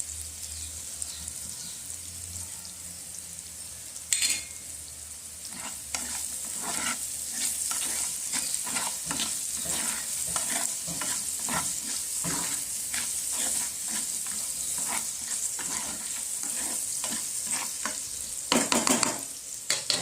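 Raw green mango pieces sizzling in a pan as they soften with salt, stirred with a spoon that scrapes and taps in a busy, fairly close rhythm over a constant frying hiss, with no voices.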